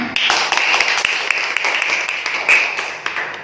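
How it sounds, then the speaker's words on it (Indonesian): A class of third-grade pupils claps together in a brief burst of applause, dense and fairly close, with some voices mixed in. "Benar, beri tepuk tangan."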